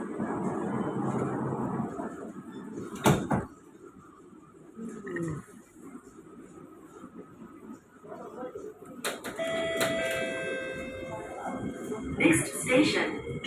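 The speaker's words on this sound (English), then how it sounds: "Doors are closing." Door-closing sequence on an SMRT East-West Line Kawasaki C151B train travelling from Jurong East towards Clementi: a sharp clunk near the middle, then a tonal chime and warning beeps over steady train rumble, with an announcement voice.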